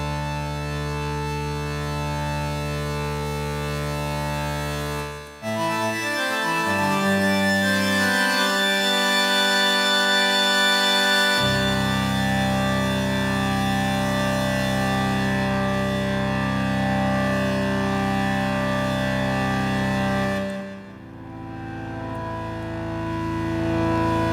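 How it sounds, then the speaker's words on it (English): Sustained, buzzy tones from a Modal Skulpt synthesizer through its distortion effect, gritty and shifting pitch in long held chords, loud and continuous with a brief dip partway. "So we hit shift to enter the effects section, and here is the distortion here."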